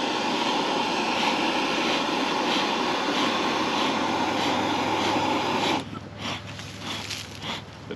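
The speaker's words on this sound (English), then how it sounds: "The torch just makes it so much easier to light off." Propane torch roaring steadily as it lights a beekeeping smoker at a farm apiary, a loud continuous broadband hiss for several seconds that cuts off abruptly near the end, leaving a quieter rumbling background.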